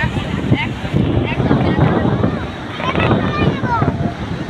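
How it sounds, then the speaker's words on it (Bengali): Sea waves crash and wash in at Cox's Bazar beach with gusty wind buffeting the microphone amid rain, and a person talks over the roar. "সমুদ্রের প্রচুর ঢেউ আর প্রচুর শব্দ, এখানে বাতাস আর বৃষ্টি কিন্তু অনেক হইতেছে"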